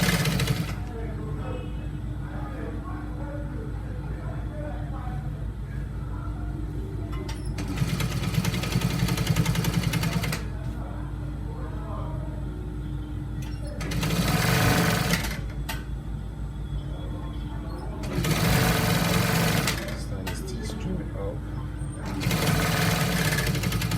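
A sewing machine stitches trouser fabric in four loud bursts of rapid buzzing, each a few seconds long, separated by quieter pauses with a low background hum.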